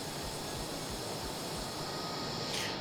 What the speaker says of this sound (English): Ah, the glorious age of jet engines.